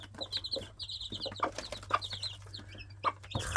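A flock of eleven backyard chickens clucks in short, scattered bursts while pecking at banana and fruit scraps, with a steady low hum underneath and no one talking.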